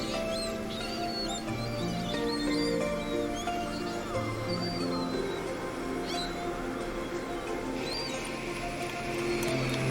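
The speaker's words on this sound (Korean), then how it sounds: "이번엔 돌고래다." Dolphins gather around a squid fishing boat at sea, giving off a busy stream of high whistles and chirps over a steady low mechanical drone, with no talking.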